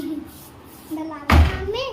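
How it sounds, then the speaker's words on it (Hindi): A door swings shut with a single solid thump near the end, close and fairly loud, after a moment of voices talking indoors. "बंद करो दरवाज़ा।"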